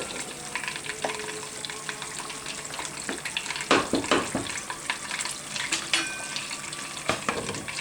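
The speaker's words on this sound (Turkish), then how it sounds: "Evet tereyağımızı eritiyoruz." Butter melts in a pan and sizzles steadily and close for cooking a lentil bulgur pilaf, broken by a burst of louder crackling and scraping partway through, with no voices.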